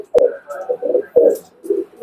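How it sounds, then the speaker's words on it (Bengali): A pair of Oman bloodline pigeons cooing close by: several soft, throaty coos in uneven bursts, with two sharp knocks or taps in between and no talking. "এটা ওমান ব্লাড লাইনের এক জোড়া কবুতর।"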